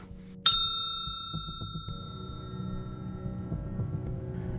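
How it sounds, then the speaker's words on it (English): Single bright ring of a bell at an unattended shop checkout, one sharp ding that rings on and slowly decays, followed by faint shuffling and background rustle. "Nobody was standing behind the checkout, nor did they rush out when I rang the bell."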